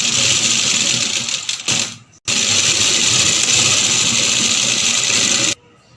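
A sewing machine stitches fabric for a kurti, a loud rapid mechanical whirr that runs steadily, stops briefly for a moment, then resumes and cuts off near the end.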